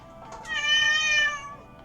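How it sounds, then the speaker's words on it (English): A deaf cat yells out one long, loud meow that rises and then fades, heard close by in a quiet room with no talking. "That is my cat. He is yelling."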